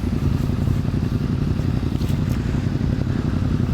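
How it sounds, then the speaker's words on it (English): Motorcycles on a group ride alongside an S1000RR, a loud, steady low engine drone with wind buffeting throughout and no talking. "a lot of these bikes sound pretty good, so I don't want to drown out the beautiful sounds of these engines"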